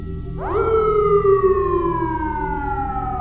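A loud police car siren sweeps up sharply and then slides slowly downward in a single long wail, heard alone.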